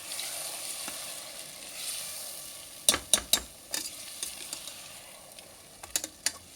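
Marinated mutton fries in a pan with a steady low sizzle, broken by several sharp clicks and taps from stirring, the crackle continuing quietly throughout with no talking.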